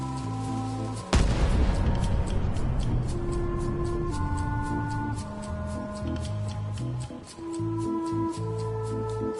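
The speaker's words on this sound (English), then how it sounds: "Ready for cannon firing." A ship's cannon in the video game Return to Monkey Island fires once with a deep, heavy boom that rolls off into a rumbling decay, set against light game music.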